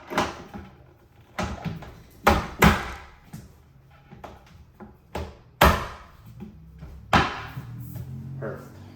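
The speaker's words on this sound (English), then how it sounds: "your door literally just clinks right into place" An IKEA kitchen cabinet door clicks onto its mounted hinge anchors in a short run of sharp, close clicks and knocks, with quieter handling sounds between them.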